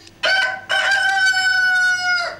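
A cockerel crows loudly and close by, one full drawn-out cock-a-doodle-doo with a short broken start and a long held final note, clear against a quiet background.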